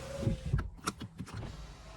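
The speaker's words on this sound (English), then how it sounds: "So let me roll the windows back up." A 7th-gen Nissan Maxima's power windows hum briefly with short electric motor whirs and a couple of clicks as the glass rises, close and fairly quiet inside the car.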